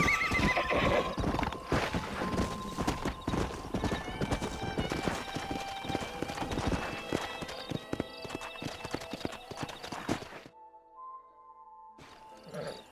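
Horses galloping with dense, rapid hoof clatter and loud neighing and whinnies in a Red Dead Redemption game scene, continuous and close until it cuts to near silence, then a brief return.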